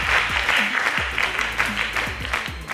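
Audience at a high school quiz show applauding steadily for a correct answer, a dense clapping wash throughout with a voice speaking over it.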